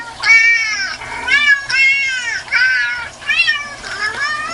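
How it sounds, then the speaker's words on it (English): Several cats meow loudly and repeatedly close by, a run of overlapping, rising and falling cries that follow one another with brief gaps and no talk. "What are all those cats doing up in the gallery?"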